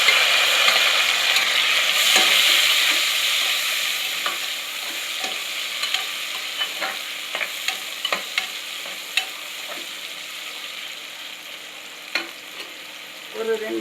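Grated ginger and a small tomato, with green chillies and curry leaves, sautéing in a pan: a bright continuous sizzle, strongest at first and gradually easing, broken by light ladle taps and scrapes, no voices.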